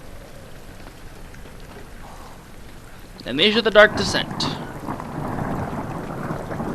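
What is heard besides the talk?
thunderstorm with rain in video game Amnesia: The Dark Descent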